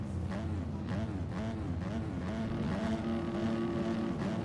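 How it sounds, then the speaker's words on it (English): Husqvarna motocross bike engine revving at the starting gate of an amateur outdoor race in Sweden, a steady loud droning roar with rising and falling pitch throughout. "Kurt getting that Husqvarna warmed up."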